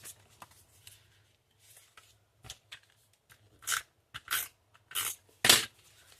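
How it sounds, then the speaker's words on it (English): Paper being trimmed with scissors for a handmade card, a series of short, crisp snips and rustles, sparse at first and then louder and closer together, with no talking. "This is obviously way too long, but we'll trim it up."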